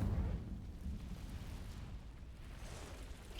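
A fire spell cast in the Hogwarts Legacy video game: a low, rumbling burst of flame that rolls on steadily for a few seconds, thick in the lows with a soft roaring body.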